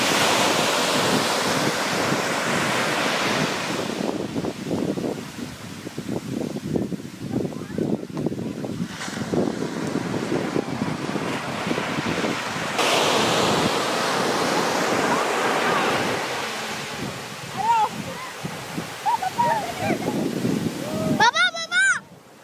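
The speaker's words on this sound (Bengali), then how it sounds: "একটার পর একটা ঢেউ আছড়ে পড়ছে ধারে, আর সুন্দর ফেনার রঙে রাঙিয়ে দিয়ে যাচ্ছে বালির চড়া।" Sea waves of the Bay of Bengal break one after another on the sandy shore at Bali Harachandi near Puri, a loud continuous roar and wash with strong wind buffeting the microphone, and brief chirpy sounds near the end.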